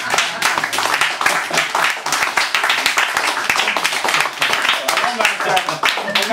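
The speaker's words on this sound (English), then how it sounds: "More applause, please, for Sue Johns" Audience applause and clapping after a woman's stand-up comedy set, a dense steady wash of many hands filling the room, loud and continuous throughout.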